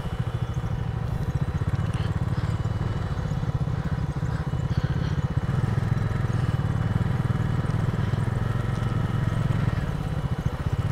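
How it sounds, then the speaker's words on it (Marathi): A motorcycle rides along a beach in Konkan, its engine thumping in a steady, loud, continuous rhythm close by for the whole stretch, with faint rattling and no voices. "बाईक घेऊन डायरेक्ट बीचवर."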